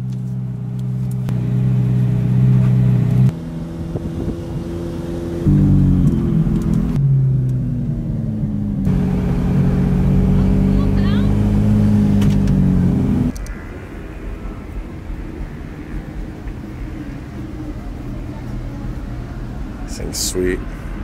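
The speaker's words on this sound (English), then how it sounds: "You guys are just ripping around these corners, then hitting the straight." Motorcycles race around the corners and straights of Portland International Raceway, their engines droning loudly and steadily with rising and falling pitch as bikes pass, beneath people talking.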